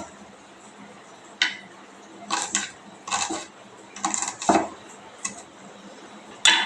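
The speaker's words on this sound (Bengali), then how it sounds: "আধখানা যে পেঁয়াজ আছে সেটাকেও আমি ভালো মতন কেটে নেব।" A kitchen knife chops half an onion on a chopping board in a few separate bursts of quick cuts, close and moderately loud, with quiet pauses in between.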